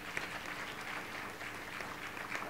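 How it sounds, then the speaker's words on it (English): Conference audience at an investigative journalism event gives a round of applause for award-winning reporters, a steady, even wash of many hands clapping at a moderate distance. "Perhaps a round of applause"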